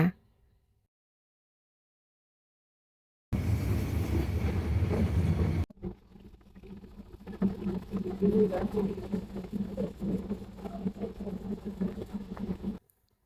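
After a stretch of near silence, a passenger train arriving at Mae Klong station in Thailand rumbles and rattles along at close range, a steady mechanical roar with faint clatter underneath.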